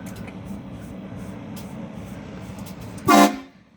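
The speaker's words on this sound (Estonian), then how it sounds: "Rongipasunad." A Scania truck fitted with train-style air horns sounds one short, loud, brassy blast near the end, after a stretch of low idling rumble and faint background noise.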